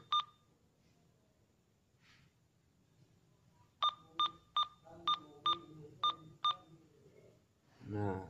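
Sharp electronic key beeps from buttons being pressed on an Alinco DJ-CRX5 handheld radio: one beep, then a quick run of six evenly spaced beeps, close and clear over faint background murmur.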